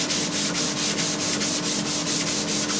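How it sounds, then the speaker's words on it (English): Steady rhythmic sanding on a wooden guitar soundboard, a rough scratchy rasp pulsing back and forth in quick even strokes, close and continuous. "Then we progress to just sanding the top."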